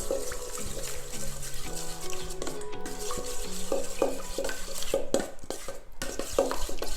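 A spoon stirs chicken with lemon juice for a marinade in a bowl, making continuous wet, squelching mixing sounds with scattered light clinks against the bowl. It is close and steady throughout, with no voice.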